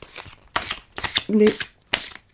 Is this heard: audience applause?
no